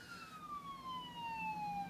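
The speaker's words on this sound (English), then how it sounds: "Oh, I can hear a siren, but I cannot see where it's coming from." A police car siren wails on a street, faint and somewhat distant, with a single slowly falling tone as it passes by.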